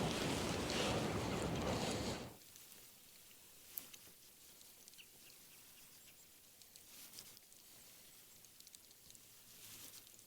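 Wind rushes loudly across the microphone for about two seconds and then drops to a faint, steady outdoor hiss with occasional soft bumps, heard while fishing from a shore.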